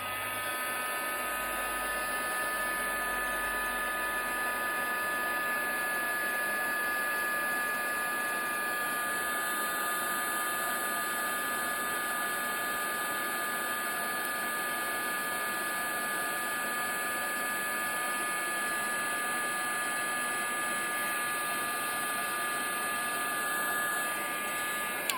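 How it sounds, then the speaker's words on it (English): Heat gun embossing powder on a vellum greeting card, blowing as a steady, continuous hiss with a faint electric whine throughout, close and unbroken for the whole stretch. "Then I'm gonna take my heat gun here, and we're gonna go ahead and emboss that."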